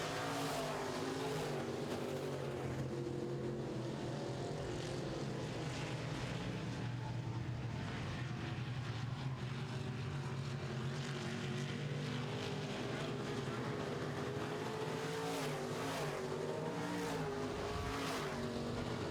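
Midwest modified race cars lap a racetrack during a heat, their engines droning and whining continuously at a moderate distance, rising and falling as cars pass, with no talk over the din.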